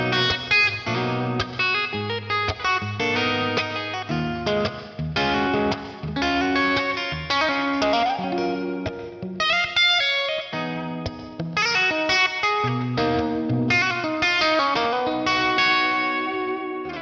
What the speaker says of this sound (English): Let's play some fingerstyle.